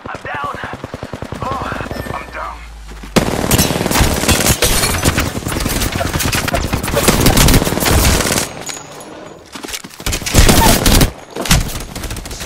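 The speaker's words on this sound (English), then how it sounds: "I'm taking fire." Video game gunfire: dense rapid machine-gun bursts and volleys, loud and close, mixed with game effects and speech.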